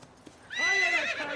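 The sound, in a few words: horse neighing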